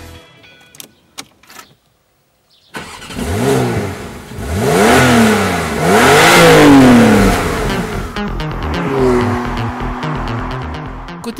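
A Porsche 911 Targa 4 GTS with a 3-litre twin-turbo engine and PDK gearbox, rated at 450 hp, pulls away hard. Its engine rises through several quick gear changes, loud and close, then settles back to a lower hum.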